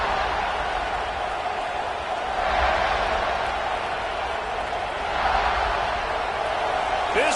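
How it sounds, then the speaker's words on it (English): Football stadium crowd roars early in the game: a dense, steady wash of cheering that swells twice and stays loud throughout. "This crowd bringing the energy and noise early."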